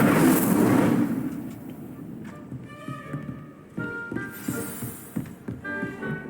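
An Incendio fire spell cast in Hogwarts Legacy, opening with a loud rumbling whoosh that fades into a string of bright chiming magical effects and softer thuds, with no talking.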